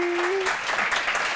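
A studio audience on a Ramzan TV transmission show breaks into sustained applause, a continuous spread of clapping heard from close by, with a short steady tone sounding at the very start.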